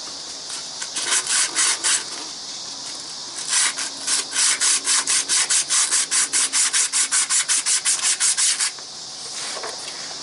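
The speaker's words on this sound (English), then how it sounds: "I'm going to go get some emery cloth or sandpaper and clean all that off of there" Emery cloth or sandpaper scrubbing a part of a big truck's auxiliary gearbox clean, loud rapid back-and-forth strokes in two bursts, the second a long steady run of about twenty rhythmic rubs, no voices.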